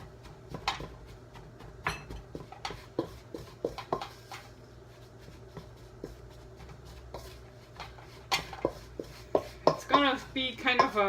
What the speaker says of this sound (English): Just take my wooden spoon first. Okay. Let's mix that together.